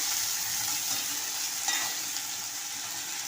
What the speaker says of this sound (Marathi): भाजी परतवून घेऊया